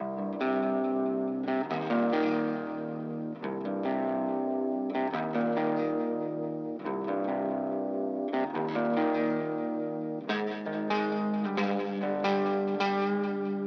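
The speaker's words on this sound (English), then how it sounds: "This first guitar is just like an arpeggio version of the chords we were playing before" Electric guitar picks an arpeggiated version of a chord progression through Guitar Rig 7 with ping pong delay, chorus and distortion, a steady wash of bright repeating notes with echoing tails, unaccompanied and without talk.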